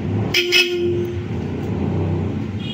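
Two brief, sharp beeps from a Bosch aftermarket horn on a Honda ADV 150 motorcycle near the start, followed by a steady engine hum and a faint tone later.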